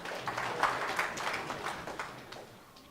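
Scattered clapping from an audience at a university orientation ceremony, fairly faint and soft, fading gradually over a few seconds.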